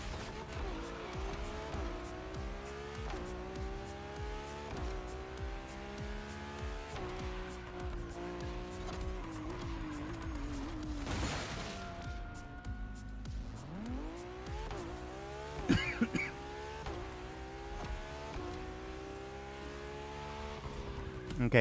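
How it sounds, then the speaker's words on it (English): Car tires squeal through a handbrake drift in The Crew Motorfest, a sustained screech riding over steady engine drone with shifting revs, loud and continuous throughout. "maybe handbrake wasn't the right option"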